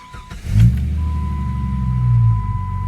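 A 1997 Jeep Grand Cherokee engine cranks briefly, catches and settles into a loud, steady low rumbling idle, heard close up with a faint constant whine above it.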